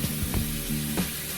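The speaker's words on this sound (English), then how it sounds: "I'm ready to brown my ground beef and my Italian sausage" Ground beef and Italian sausage brown in a hot pan, giving a steady close sizzle with a few brief scraping stirs over it.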